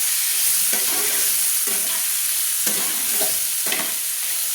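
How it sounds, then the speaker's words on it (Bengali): A spoon stirs Kashmiri chili powder and spices in a hot pan for a fish-head cabbage curry, a steady sizzle broken by several scraping strokes through the oil, close and fairly loud. "দিয়ে আমি ভালো করে নেড়ে নিচ্ছি, মশলাগুলো একসঙ্গে ভালো করে আমি নেড়ে নিচ্ছি।"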